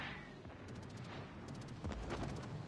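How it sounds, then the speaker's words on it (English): Booming naval gunfire from a battleship in the video game World of Warships: Legends, several heavy reports in a dense, continuous barrage, quiet overall, with no voices. "battleship trying to shoot me."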